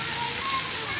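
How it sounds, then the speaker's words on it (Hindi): Heavy downpour during a storm, a dense steady hiss of rain filling the whole short stretch with no break. "बहुत तेज़ है बारिश।"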